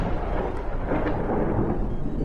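Deep rumbling thunder rolls continuously through a storm, a loud broadband roar with low booming weight and no voices.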